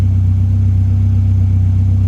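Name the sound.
Ford Escort RS Cosworth engine idling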